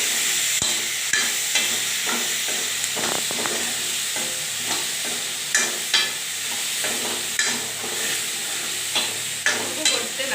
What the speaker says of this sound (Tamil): இப்போ இது நல்லா நம்ம கத்திரிக்காய் எண்ணெயிலேயே வதங்கட்டும்